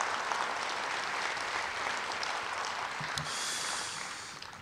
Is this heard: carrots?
no